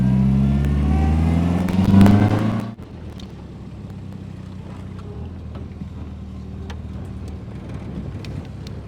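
A rough-running 1963 Sprite sports car with SU carburettors and an exhaust leak revs up loudly for a couple of seconds on a drive, then cuts off sharply to a quieter, steady low rumble.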